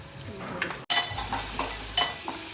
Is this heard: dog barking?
no